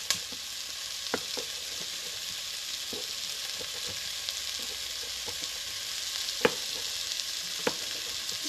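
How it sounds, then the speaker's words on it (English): Beans and barley browning in a pan on the stove, a steady sizzle and fry with scattered soft clicks and stirring knocks, close and alone with no talk. "We're going to keep browning this a little more."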